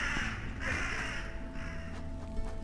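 Several harsh crow caws in the video game Paws: A Shelter 2 Game, coming in a few spaced bursts over soft background ambience, moderately loud with no speech.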